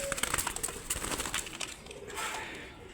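Pigeons coo in a pen where colour-breed pigeons are kept as breeding pairs, with soft throaty calls repeating over a low steady background, moderately near and fairly quiet.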